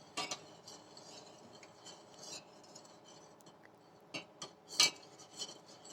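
A starch mixture for ashlyamfu thickening in a pot on the stove as a utensil stirs it, with steady scraping and clinking against the pot and a few sharper knocks, close and alone.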